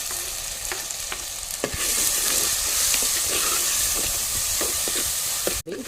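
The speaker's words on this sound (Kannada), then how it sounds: "ಇಲ್ಲಿ ನೀರುಳ್ಳಿ ಫ್ರೈ ಆಗ್ತಾ ಬಂತು" Onion and tomato masala frying in a pan with steady stirring. A continuous close sizzle runs throughout, with scraping strokes and a sharp clatter near the end.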